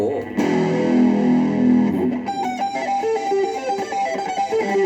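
Electric guitar played through an MXR germanium distortion pedal, a thick sustained chord ringing first and then a run of distorted single notes, loud and close with no talk over it.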